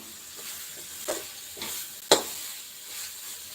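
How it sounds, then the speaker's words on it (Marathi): Chickpea greens being sautéed in a pan, giving a soft continuous sizzle with a few stirring scrapes and one sharp clack of a utensil against the pan. "एकदम आपल्याला छान त्याला परतून घ्यायचं आहे"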